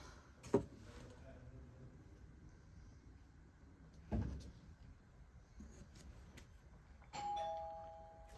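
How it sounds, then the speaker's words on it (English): In a quiet room, two dull thumps come first, then a doorbell chime rings near the end and lingers. "Hold on, he's gonna ring the doorbell."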